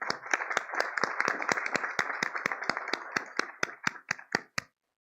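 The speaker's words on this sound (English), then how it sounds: "So I think there could be a one round of applause for all of us." Sparse applause from a small audience at a global skills summit panel, with distinct sharp claps at an irregular, thinning rhythm that fade out near the end.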